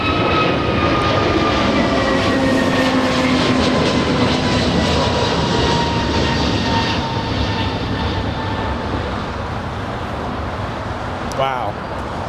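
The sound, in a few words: Airbus A321neo jet taking off at LAX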